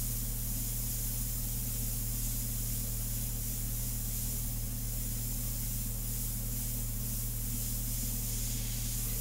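An airbrush sprays India ink onto a portrait with a steady, unbroken hiss over a low, constant hum, close and even throughout.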